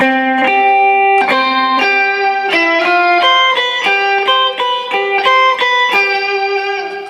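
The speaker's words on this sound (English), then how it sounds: "I'm a big fan of the whammy. I only ever really use it in the octave setting, so it'll add an octave above" Electric guitar through a whammy pedal on its octave setting, adding a layer an octave higher, played in a steady rhythmic pattern, bright and loud, with no talking.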